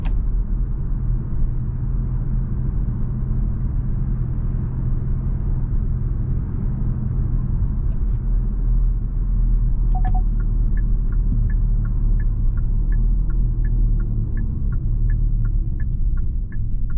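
A 2022 Hyundai Sonata N Line accelerates, heard from inside the cabin as a steady, loud low engine hum and road rumble, with faint ticking above it.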